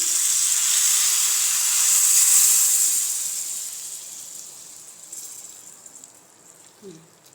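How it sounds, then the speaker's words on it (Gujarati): A hot tempering is poured over dal dhokli topped with red chilli powder. It gives off a strong hissing sizzle that slowly fades to a quieter crackle, with a few faint clinks near the end. "અડધી ચમચી જેટલું લાલ મરચું ઉમેર્યું છે ને તેની ઉપર આપણે આ વઘાર નાખી દઈશું."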